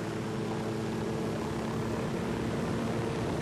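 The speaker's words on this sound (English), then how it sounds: "Why isn't this freaking helicopter going forwards?" A dense, steady helicopter rotor-and-engine roar with a low droning hum holds constant throughout, loud and close, with no voices, in the video game Ghost Recon Wildlands.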